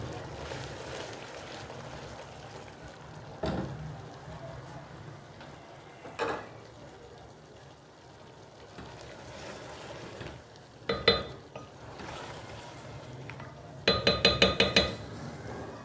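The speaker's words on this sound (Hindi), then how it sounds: "आपकी फ़िश जो है भुन गई है" Fish frying in a pan for a fish curry, a steady low sizzle running throughout with occasional clinks and scrapes of a utensil against the pan, brief metallic rattles near the end.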